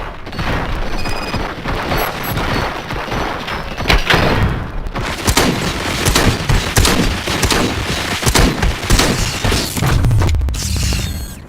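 Sustained, loud gunfire in the PC RoboCop game on extreme difficulty: a dense barrage of shots and thuds running almost continuously, with sharp individual cracks standing out through the clatter.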